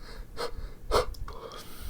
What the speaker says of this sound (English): You hear all the heavy breathing